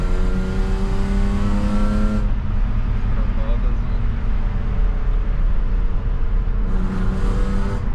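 A BMW 320i E36 six-cylinder engine revs up close, its steady harmonic drone rising and settling over several seconds, with voices talking over parts of it.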